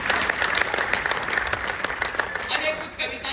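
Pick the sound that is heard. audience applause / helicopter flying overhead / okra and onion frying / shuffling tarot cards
audience applause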